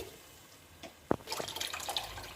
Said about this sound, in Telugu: పులుసు యాడ్ చేస్తున్నానండి. పులుసు కూడా యాడ్ చేశాను.